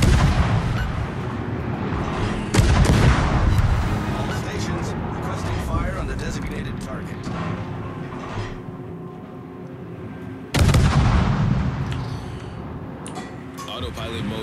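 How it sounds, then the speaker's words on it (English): Naval artillery fire in the World of Warships video game, with sharp heavy salvos booming at two points over a continuous rumbling battle soundscape of engine drone and game effects, with voices talking throughout. "Concentrate fire on the enemy warship."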